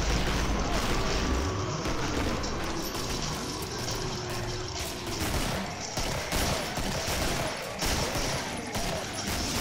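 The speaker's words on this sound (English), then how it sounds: "They're shooting everything." Gunfire in the video game Killing Floor, a dense continuous fusillade of shots and blasts filling the whole stretch, loud and busy with no clear gaps.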